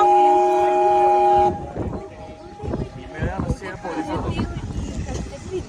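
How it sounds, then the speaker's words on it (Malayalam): A 1916 train's whistle sounds steadily at first in Wadi Rum, Jordan, then gives way to clanking, rumbling wheels and carriage noise as the train gets moving, with people talking nearby. "ട്രെയിൻ സ്റ്റാർട്ട് ചെയ്തു."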